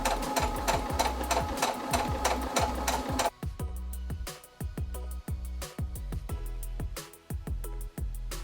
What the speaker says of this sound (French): maintenant je vais faire la couture de la licorne